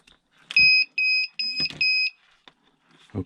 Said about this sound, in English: now it beeped 3 times